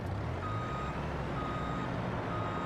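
Reversing beeps from a truck backing into a warehouse in Farming Simulator 22, a steady repeating electronic beep over a low engine rumble, moderately quiet.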